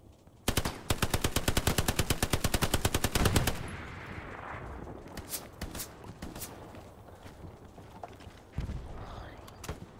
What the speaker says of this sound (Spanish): Disparos por la izquierda.